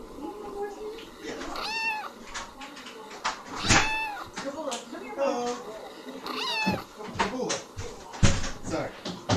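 Several house cats meow and yowl repeatedly in rising, drawn-out calls, close and loud, with scattered knocks and thuds between them and a person talking over parts of it.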